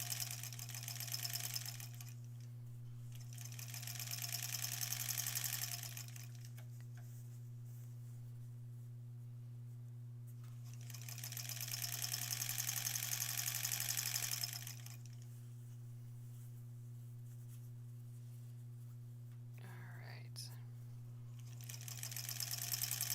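A sewing machine pieces quilt scraps in improv style, stitching in three bursts of a steady whirring rattle with quiet pauses between them, over a constant low electrical hum, close and without talk.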